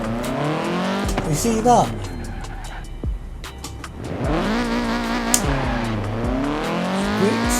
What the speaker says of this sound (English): Let's do our little burnout that we always do.